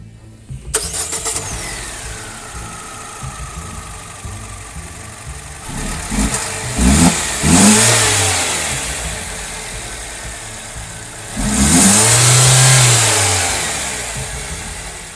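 An MG ZS with a 1500cc engine cranks and fires up, settles into a steady idle, then is revved twice, with the second rev swelling louder and longer before dropping back, heard up close with no talk.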